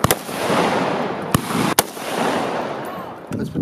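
Firearm shots ring out at an outdoor shooting pit: several sharp, loud reports spaced unevenly over steady wind-like noise, each a sudden crack with a brief tail.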